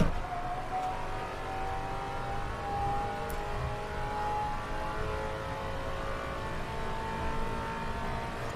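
A car in the Assetto Corsa racing game accelerates hard around Monza, its engine droning steadily and rising gradually in pitch, fairly quiet and continuous throughout.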